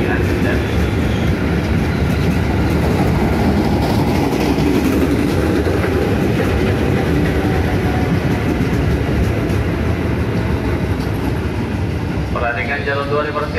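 A KRL commuter train rumbles loudly through Cikini station in the morning, with steady rolling and clattering wheels throughout and a faint squeal near the end, while announcements and voices carry under the noise.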